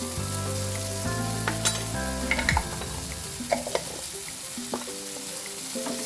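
Butter garlic shrimp with chili garlic sauce sizzles steadily in a pan while being stirred, a constant frying hiss with scrapes and clicks of the utensil, over quiet background music.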